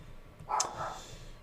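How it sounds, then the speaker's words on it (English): A small dog's single short bark, heard somewhat distant and faint over a quiet room background. "Chuchi's in a barking fit"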